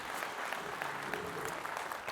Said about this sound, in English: Would you give them a big round of applause?